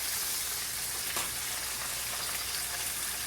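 Country fried steak sizzles in a pan with a steady, dense crackle of hot oil, even and continuous at close range, with no talking.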